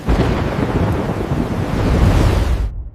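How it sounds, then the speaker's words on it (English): Storm waves crash over a ship as a sound effect, a dense, loud roar of surging water and wind that fills the whole stretch and then cuts off abruptly at the end. "Here comes the wall of water!"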